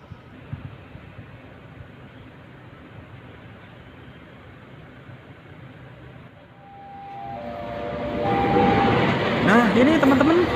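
A KRL electric commuter train on the Jogja–Solo line at a station: a low rumble of the train approaching and growing louder, with horn-like tones near the end and crowd voices in the background.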